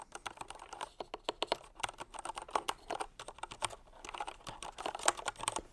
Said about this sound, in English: they sound like a regular red cherry MX keys. Plenty of tactile feedback, not a lot of noise.